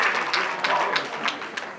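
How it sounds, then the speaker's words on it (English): Brief, moderate applause from an audience at a Martin Luther King Jr. memorial breakfast, with scattered claps close by and murmuring voices mixed in. "One more round of applause."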